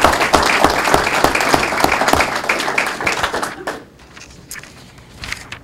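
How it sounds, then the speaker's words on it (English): An audience at a school board of education meeting gives loud, dense applause for an award recipient. It fades sharply after about three and a half seconds, leaving only a few scattered claps. "Let's give a round of applause to Mr."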